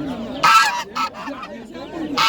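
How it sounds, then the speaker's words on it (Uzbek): Geese honk loudly at an animal market in Andijan, with two bursts of honking up close and a third coming in at the end, while faint voices murmur in the background. "G'ozlar."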